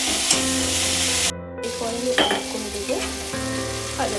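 Onion, tomato and ginger-garlic paste sizzle and fry in a pan with close stirring scrapes, a loud hiss broken by a brief gap and irregular spoon knocks.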